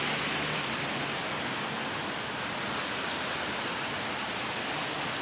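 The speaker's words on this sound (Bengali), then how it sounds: "এই বৃষ্টিতে তো যাওয়াটাও বিশাল প্যারার বিষয়" Heavy rain pours outside in a steady, dense hiss that stays even throughout, with no voices.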